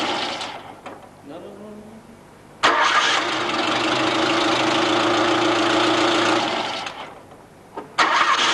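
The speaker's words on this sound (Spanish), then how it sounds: "he intentado arrancar 3 veces el vehículo, las 3 ha arrancado bien" A car engine is cranked with the ignition and catches, then runs loud and steady at idle for several seconds before cutting off; a brief second start follows, during engine timing work at a workshop.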